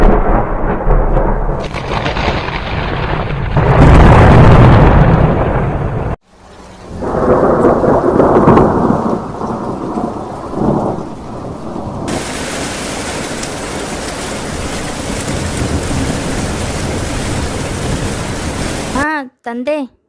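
A thunderstorm with rain plays during a stage drama and dance performance about farmers. Loud, rolling thunder and a dense wash of rain run almost continuously, with an abrupt cut near the middle and a few brief warbling tones at the very end.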